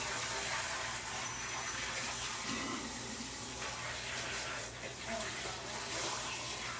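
Tap water gushes steadily into a sink as tie-dyed fabric is rinsed, a continuous close splashing hiss with slight shifts in the flow.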